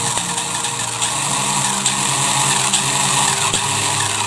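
A Yamaha FAZER MK2 tire spins smoothly during a bench test, giving a steady, loud mechanical whir with a sustained engine-like drone and broadband hiss throughout.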